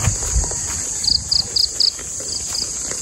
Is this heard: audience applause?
no